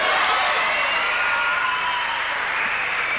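A crowd applauding in a basketball arena during a 1990 NBL game between the Illawarra Hawks and Newcastle Falcons at the Snake Pit, a dense continuous wash of clapping that fades slightly toward the end.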